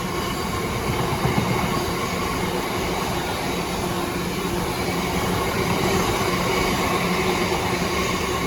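Train hauled by locomotive 66775 rolling past at Meadowhall station: a steady, dense roar of wheels and carriages with faint rail clatter, held at an even loudness throughout and no voices.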